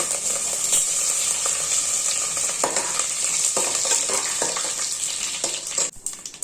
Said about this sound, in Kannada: ಜೀರಿಗೆ ಹಾಕೊತಾ ಇದ್ದೀನಿ. ಕರಿಬೇವಿನ ಸೊಪ್ಪು,